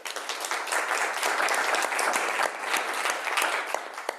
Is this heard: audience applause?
yes